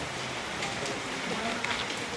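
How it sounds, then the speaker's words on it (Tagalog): Rain falls steadily around a construction site where a concrete slab has just been poured, a soft continuous patter with light scattered drops throughout. "Ulan-ulan na pa nga po ay."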